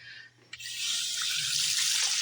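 A kitchen tap opens after a brief quiet moment and water gushes out in a strong, steady hissing stream, close to the microphone and alone.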